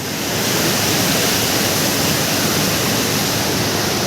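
A river rushes hard and fast, making a loud, dense, unbroken roar of water close by with no pauses and no voices.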